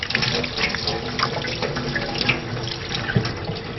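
Running tap water pours steadily over a freshly cleaned squid as its inside is rinsed, a continuous close splashing rush with small drips and splatters throughout.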